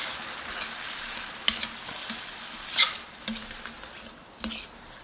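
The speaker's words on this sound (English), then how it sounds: "We're going to give that a good stir." Liquid and capers get stirred into a hot skillet for a Tuscan garlic butter shrimp dish, a soft sizzle under a handful of distinct clinks and scrapes from the spoon at irregular intervals, with no talk.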